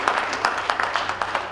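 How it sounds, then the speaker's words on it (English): A small audience gives a short burst of applause, a brief rapid patter of hand claps at moderate volume. "A round of applause."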